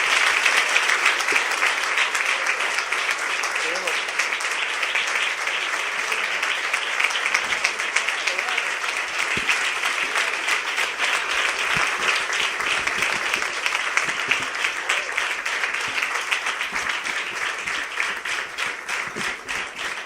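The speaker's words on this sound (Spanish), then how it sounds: "Vamos a darle un fuerte aplauso al Señor" A church congregation breaks into long, steady applause, many hands clapping at once in a dense, even wash that holds strong and close from start to finish.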